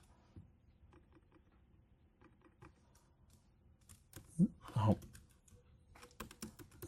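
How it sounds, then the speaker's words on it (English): Fingers tap on a computer keyboard at a desk while designing a Christmas ornament, scattered quiet clicks and short bursts of keystrokes, with a brief soft voice sound partway through. "I'm going to type"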